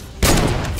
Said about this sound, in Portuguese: que tiro foi esse, parça?